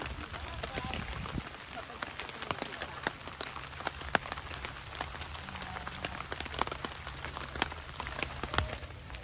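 Rain patters steadily onto a surface outdoors in cold weather turning to snow, a dense crackle of drops with sharper individual hits, while a voice speaks in the background.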